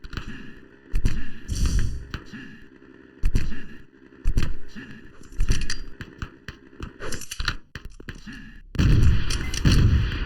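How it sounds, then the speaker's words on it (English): Rocket launcher fire and explosions in the arena shooter Open Arena during a competitive duel match, heavy booming blasts recurring every second or so amid other game effects, loud and punchy. "Very beautiful rockets here."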